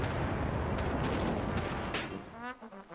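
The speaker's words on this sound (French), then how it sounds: "Là, on évite les boulets de canon." Cannons boom repeatedly in the Alt F4 video game, a dense rumbling barrage of shots that stays loud and continuous before thinning into a few scattered blasts and whooshes.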